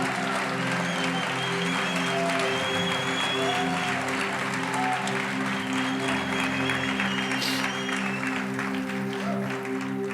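A church congregation applauding their founding pastors, sustained dense clapping from a large crowd lasting the whole stretch, with a faint hum of voices and background music beneath.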